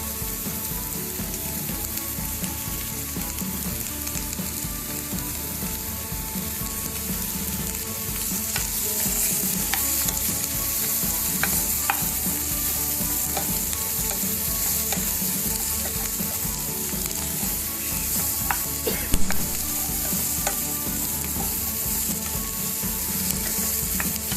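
Vegetables fry in a kadai for kadai paneer, a loud, steady, close sizzle that runs throughout, with occasional scraping and stirring clicks from a utensil against the pan and no talking.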